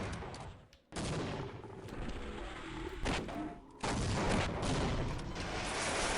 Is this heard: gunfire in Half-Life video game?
yes